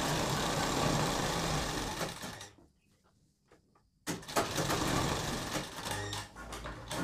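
A sewing machine stitches the folded hem of an apple-cut kurti, running with a steady close mechanical whir that pauses for about a second and a half before starting again.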